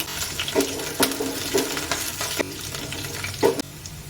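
Curry leaf sprigs drop into a pan of frying onions, giving a few sharp spattering bursts over a steady close sizzle, with light stirring and no talk.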